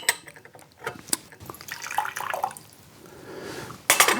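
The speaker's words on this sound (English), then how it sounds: "I'm gonna pour this water into my Dongdao bays." Hot water poured into a Dongdao-style tea brewing vessel for a tea session, heard as a short close trickling splash in the middle, with a few clinks before it and a brighter burst of liquid at the end.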